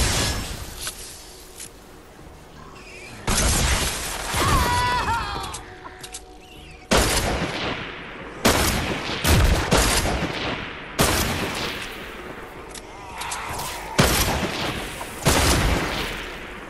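Video game gunfire in Save The World: loud, close bursts of shots and booming blasts in irregular clusters, separated by short quieter gaps, with no talk.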